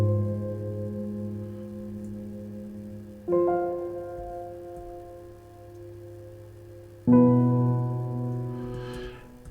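Piano part played from MIDI of the guitar lines, quiet sustained chords changing twice with soft attacks, alone without voices.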